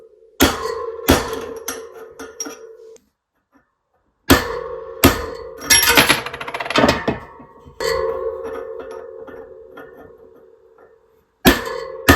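Sharp metallic strikes ring out in irregular bursts, a small copper hammer tapping on metal parts of an NSU ZD 201 motorcycle, with clattering resonance and brief pauses between groups of blows.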